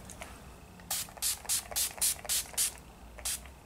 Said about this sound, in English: I'm just going to use my Urban Decay Chill Makeup Setting Spray.